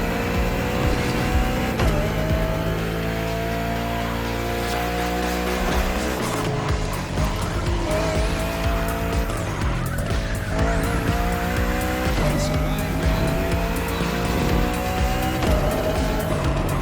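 Bugatti Bolide race car on slick tires in a racing game, engine roaring continuously with repeated rising gear sweeps and recurring tire squeals through the turns.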